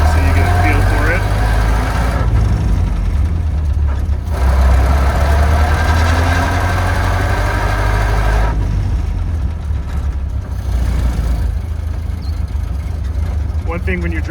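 A 1930 Ford Model A cruising slowly around a park in a small residential community, its engine a steady low rumble throughout with continuous road and wind noise.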